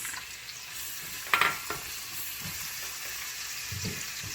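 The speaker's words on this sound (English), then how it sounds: "Let everything just caramelize, the onion caramelize just a little bit." Onions and peppers frying in a pan for ackee and saltfish give a soft, steady sizzle, with a brief louder stir or clatter near the middle and light stirring sounds toward the end.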